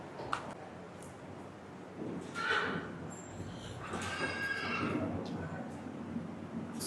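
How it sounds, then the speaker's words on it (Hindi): Mare neighing at a stud farm in a loud, drawn-out whinny with some hoof clip-clop, heard over steady background noise and people talking nearby. "अभी ये अपने वाले काले घोड़े से प्रेग्नेंट है जी, वाह। मेहरबान से।"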